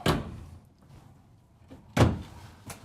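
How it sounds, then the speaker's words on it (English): The egress door of a Newmar Dutch Star 4369 motorhome is handled with a sharp thud at the start and another louder thunk near the end, plus a softer knock, in a quiet interior. "the egress door that we're all used to with Newmar that just opens up"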